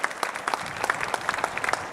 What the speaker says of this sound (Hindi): जोरदार तालियों से आपका स्वागत करें.